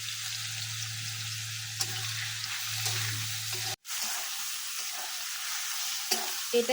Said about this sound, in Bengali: এটাতে ফ্রাই করে নেবেন যতক্ষণ পেঁয়াজগুলো এবং রসুনগুলো বাদামি না হচ্ছে